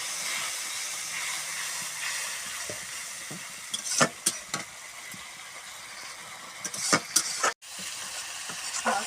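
Water poured into spice paste frying in a pan hisses and sizzles steadily, with a few sharp spatters and scrapes rising above the constant fizz.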